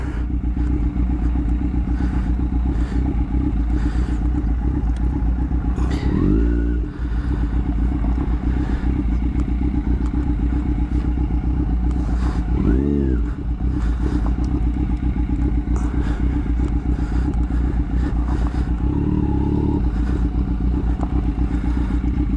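A loud, new 150 cc motorcycle engine runs steadily close by in a garage, revving up sharply three times at regular intervals before settling back to idle.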